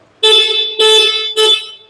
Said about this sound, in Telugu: సో హారన్ కూడా చాలా లౌడ్ ఉంది.